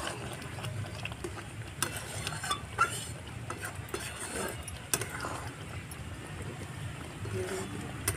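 Ridge gourd mash stirred in a pot with turmeric and a little salt, giving soft, irregular scraping and clacking strokes, fairly faint and close, over a steady low background hum.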